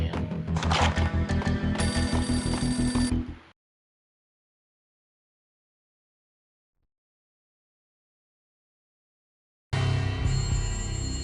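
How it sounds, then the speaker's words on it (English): An old telephone rings in the entrance hall of a building in the Max Payne video game, loud, steady repeated bell tones that stop abruptly, then resume after a long silence. "A beaten-up phone in the entrance hall was ringing"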